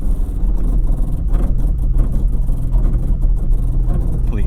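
Toyota Tacoma TRD Pro straining in crawl control while stuck, a loud close low engine rumble with irregular clunking and grinding pulses, continuous and without talk.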